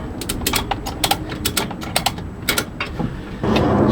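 A ratchet strap is cranked to tighten a motorcycle down onto a ramp-and-rack carrier, producing a loud, close run of rapid metallic clicks in quick repeated strokes, with no talk.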